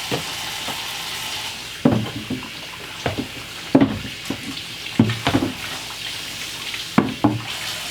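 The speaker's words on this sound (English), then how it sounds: "Actually, just rinsing up my cutting board" A cutting board is rinsed under a running tap: a steady hiss of flowing water with repeated close knocks and splashes as the board is handled, no voices.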